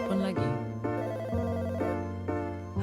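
Electronic phone ringtone from a Roblox horror game, a repeating melodic tone pattern that is loud and steady, cycling through several rings with no voices.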